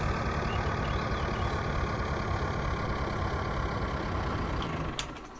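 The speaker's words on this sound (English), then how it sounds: "Turn the engine off." A tractor engine idles steadily in Cattle and Crops, a loud, constant low rumble with a humming drone that holds throughout before a small click near the end.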